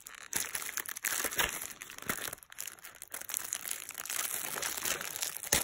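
A taped-up gift box with a bow being torn open: close, loud crinkling and crunching of tape and paper in irregular bursts throughout, no talking.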